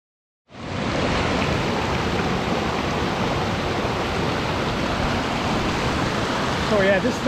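A waterfall on Red River in a gorge on Cape Breton Island roars as a loud, steady wash of rushing water that starts abruptly and continues unbroken, with a faint voice near the end.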